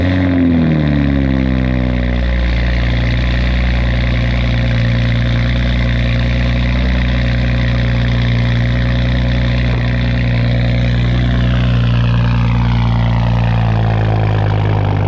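Toyota MK5 Supra fitted with a Tomei Type-R single-exit titanium exhaust, idling loud and close with a deep, steady drone and smooth rev changes, no talking.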